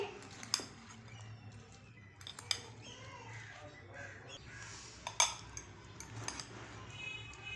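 Fruit chaat of banana, grapes and pomegranate is stirred in a bowl, with sparse metallic clinks and scrapes of a spoon against the dish over a quiet background.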